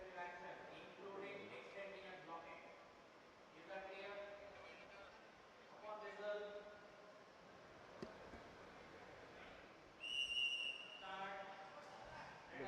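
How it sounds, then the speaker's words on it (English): A referee's whistle at the DD Robocon 2025 national robotics competition at IIT Delhi sounds one short, sharp, shrill blast near the end, while an announcer speaks over the arena before and after it. "We have the whistle here."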